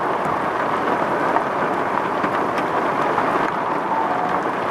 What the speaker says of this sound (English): oh, that hail.